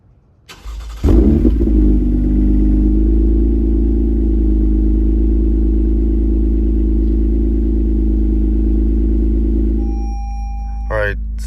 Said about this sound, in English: let's go ahead and get a quick cold start for y'all